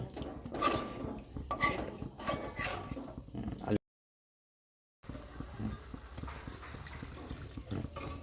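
Food is stirred in a cooking pot of watery ingredients before boiling, giving close, wet scraping and clinking strokes. A brief silent gap comes midway, then the stirring continues more softly.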